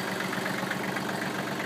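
A Kubota four-wheel-drive tractor with a TL720 loader, low hours, idles steadily with its loader raised, a continuous even engine hum with no talk over it.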